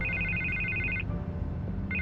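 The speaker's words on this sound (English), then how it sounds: "I can't get the phone to stop ringing." A telephone rings in the video game Batman: The Telltale Series, a steady electronic double-trill bell that cuts off briefly and starts again, loud over a low background drone.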